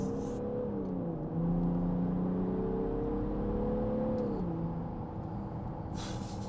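6.0 V12 diesel car accelerating from low in the rev range: a steady droning engine note climbs smoothly, dips and rises again, loud and close throughout with no talk.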